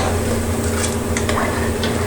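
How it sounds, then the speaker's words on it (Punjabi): Chickpeas being tempered in a large pot simmer and crackle with a steady frying hiss over a low rumble, with a few faint stirring clinks. "ਵੱਡੇ ਪਤੀਲੇ 'ਚ ਪਾ ਦਿੱਤੇ ਆ ਚਨੇ ਤੜਕਾ"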